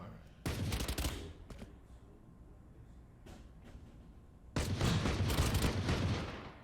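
Bursts of rifle fire in a first-person shooter game, shooting through a wall, with two loud stretches of rapid automatic shots separated by a quieter gap with scattered single shots.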